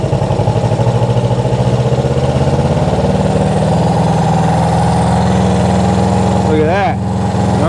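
Honda CB360 motorcycle engine idling steadily during a carburetor sync, close and loud, with the idle rising slightly partway through as it settles into an even, throbbing beat.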